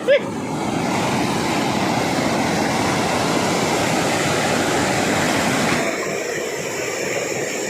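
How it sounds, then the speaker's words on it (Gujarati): Heavy monsoon rain sends a large volume of water rushing past in a loud, continuous roar that drops off toward the end, after a brief knock at the start. "આ બધું જો કેટલું પાણી જાય છે અત્યારે"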